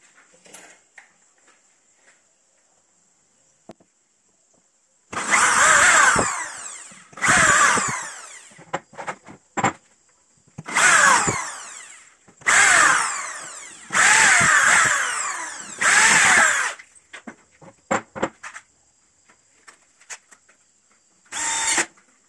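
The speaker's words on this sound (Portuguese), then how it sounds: "Agora, vamos fazer os reforços com parafuso." A power drill drives reinforcing screws into a wooden hinge-routing jig in seven or eight loud, whirring bursts of one to two seconds each. Quiet gaps with small clicks and handling noises separate the bursts.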